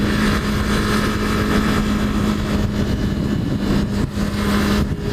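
A Honda F4i motorcycle with an inline-four engine drones steadily at a constant, loud pitch while riding, with rushing wind noise throughout and no talking.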